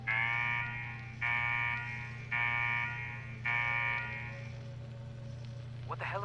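A game alarm in Fallout 4 blares in four long pulsing bursts, each a rough buzzing tone about a second long, over a steady low hum of background drone.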